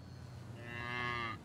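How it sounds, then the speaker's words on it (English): A single cow moos in a grassy hillside pasture where cows are grazing, one drawn-out, rising low call swelling to a peak and then ending, moderately faint and alone. "To the right were more cows grazing."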